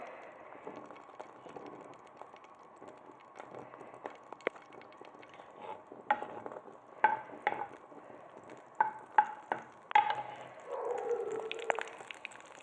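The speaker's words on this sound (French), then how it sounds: "Dans une poêle, on met un petit peu d'huile de tournesol et un petit morceau de beurre" Sunflower oil and a small piece of butter sizzling in a frying pan, a soft steady hiss broken by clinks and scraping of a utensil, faint and close.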